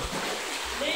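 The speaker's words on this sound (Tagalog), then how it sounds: "Tubig." Water flowing and splashing inside a cave in Patar, Pangasinan, a steady broadband rush heard close by for the whole moment with no voices over it.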